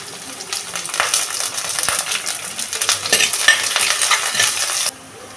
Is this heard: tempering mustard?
yes